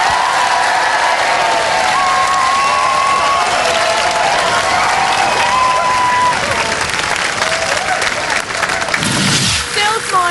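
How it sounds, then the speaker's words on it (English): A studio audience at a game show semi-final claps steadily, a dense wash of loud applause that holds throughout and thins slightly near the end. "round of applause for Splinter!"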